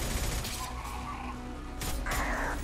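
Suppression gunfire rattles out in a Mass Effect firefight, a dense burst of shots mixed with clanking mechanical noise and debris, fairly loud over a short stretch.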